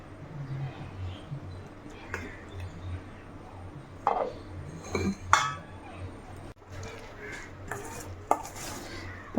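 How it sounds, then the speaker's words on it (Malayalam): A spoon stirs mayonnaise sandwich filling in a bowl, with scattered clinks and scrapes against the dish over a low room hum. "ഇത് നമ്മളിതിലേക്ക് ഇട്ട് നല്ലപോലെ മിക്സ് ചെയ്യുക."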